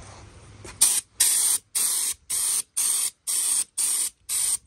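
Raptor bed liner coating is sprayed onto a blacked-out Tahoe in eight short, evenly spaced hissing bursts, each about a third of a second, close and loud with brief silences between.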